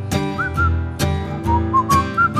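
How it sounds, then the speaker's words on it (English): A person whistles a melody in short bright phrases over strummed guitar chords, near and clear with no singing or talk. "Just purse your lips and whistle, that's the thing."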